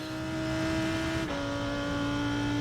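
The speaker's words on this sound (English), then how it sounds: "This is a Porsche catching up to us." Porsche GT race car in the iRacing simulator at Watkins Glen, its engine a loud, steady high-pitched drone that rises in pitch sharply midway as it closes in, with no talking.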